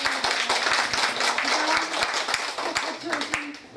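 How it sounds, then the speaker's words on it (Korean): Clapping from a women's literary society gathering in Atlanta, a fairly soft round of applause with some distinct individual claps, mixed with voices talking over it. "박수."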